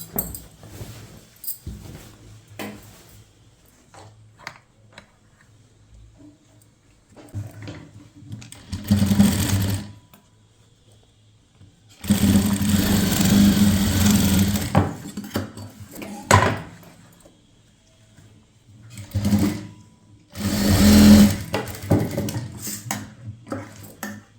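A sewing machine stitches a chudithar top in several short bursts of steady whirring, some only a second long and one running a few seconds. Between the bursts are quiet gaps with soft handling clatter, heard up close and without speech.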